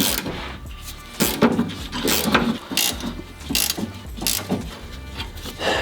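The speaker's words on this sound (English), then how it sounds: "Now I'm going to take my ratcheting wrench" A ratcheting wrench rapidly clicks as it loosens the top strut nut on a 2004–2013 Mazda 3, heard up close in repeated short bursts with brief pauses between strokes, no talk.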